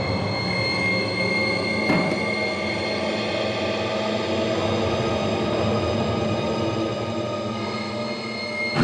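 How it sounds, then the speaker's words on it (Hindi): A steady, loud rumble of a train rolling past with continuous rail noise and a couple of brief clanks, no voices. "ट्रेन के जाने की आवाज"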